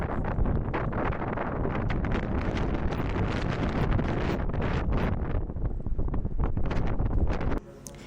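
Strong wind roars outdoors outside a beauty salon, buffeting the microphone in loud, continuous gusts that drop off abruptly near the end.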